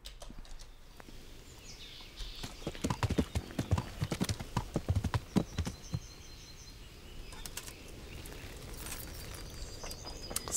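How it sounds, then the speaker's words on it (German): Horse hooves clip-clop in the medieval video game Kingdom Come Deliverance, a rhythmic run of close hoofbeats that builds and then fades, with a faint bird call in the background. "So ein prächtiges Pferd, ich sag's euch."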